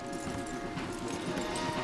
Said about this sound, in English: Okay, let's dismount here. We won't get the horses down this path.